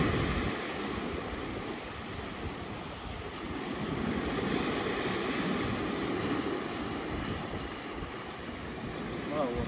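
Rough sea seen from a small fishing boat: a continuous broadband wash of waves and wind buffeting the microphone, steady and loud from start to finish.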